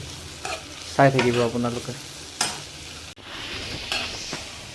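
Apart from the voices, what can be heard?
onions and curry leaves frying in a pan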